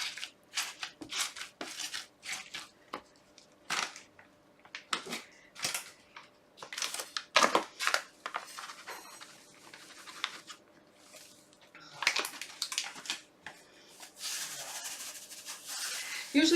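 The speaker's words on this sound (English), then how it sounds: "Just keep mixing it well." Paper clay being mixed with flour by hand for a large batch, giving repeated rough rubbing and scraping strokes in uneven bursts, close up, with quiet gaps between them.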